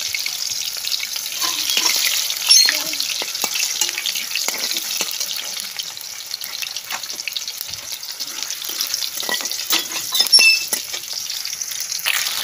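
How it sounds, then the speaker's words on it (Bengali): Black cumin, peas, tomato and green chilli fry in hot oil, giving a bright, hissing sizzle with scattered crackles and occasional louder spatters as the pieces settle. "আর তেলের মধ্যে আমি সব জিনিস দিয়ে দেবো গোটা। টমেটোটা দিয়ে দিলাম।"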